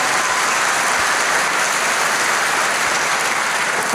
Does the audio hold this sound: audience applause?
yes